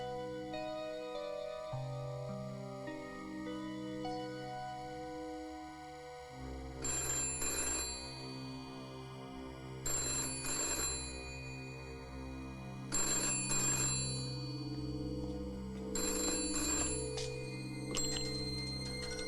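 Telephone bell ringing in repeated double bursts, four clear rings spaced a few seconds apart, heard over sustained orchestral music in an animated film.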